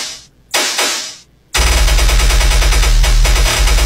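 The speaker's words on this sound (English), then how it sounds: "How about some overly aggressive gun sounds?" Overly aggressive machine-gun sound effects in a dubstep track: two short gunfire bursts, then a loud, dense, rapid rattle of automatic fire layered over a pounding heavy bass pattern.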